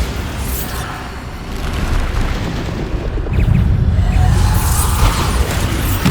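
A Bombarda explosion spell in Hogwarts Legacy, a deep rumbling boom that swells and lingers amid steady battle noise.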